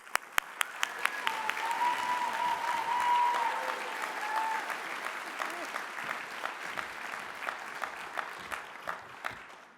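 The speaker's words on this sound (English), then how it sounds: "Join me in a big round of applause and congratulations for Gail Goodman." An awards-ceremony audience applauds a lifetime achievement honoree, a full crowd's clapping swelling and then thinning into scattered, distinct individual claps, with brief voices or cheers mixed in early on.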